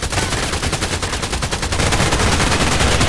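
Rapid automatic gunfire from a gun in the shooter game Contract Wars, a dense, loud stream of shots that continues for the whole stretch without pause.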